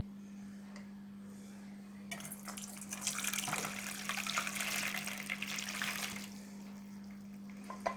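Boiled spaghetti and its cooking water pour into a colander, a steady rushing gush of water that lasts several seconds before easing off, heard alone against a constant low background hum.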